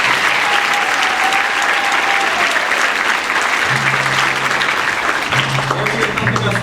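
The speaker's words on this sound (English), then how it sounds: "so we can give them a round of applause." Loud, sustained applause from a school winter concert audience honoring the custodial staff, dense clapping filling the hall steadily from start to finish without a break.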